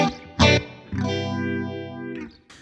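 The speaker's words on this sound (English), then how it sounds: "I also have a MXR Phase 90 clone." An electric guitar plays through an MXR Phase 90 clone phaser: a sustained chord sweeps in a slow, swirling whoosh, with a brief strum before it and a short picked note at the end.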